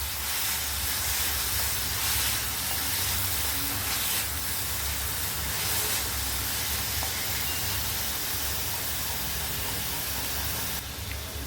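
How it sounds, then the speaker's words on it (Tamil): Two large, finely chopped onions sauté in a hot pan, giving a loud, steady sizzling hiss that runs unbroken from start to finish with no voices. "வெங்காயம் நல்லா வதங்கட்டும்"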